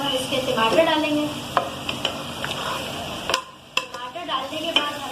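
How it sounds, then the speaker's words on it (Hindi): Tomatoes and soybean keema masala fry in a pan, a constant sizzle broken by repeated sharp scrapes and clinks of a spoon stirring against the metal, with a short quieter gap partway through. "डालने के बाद हमें इसे अच्छी तरह भूनना है।"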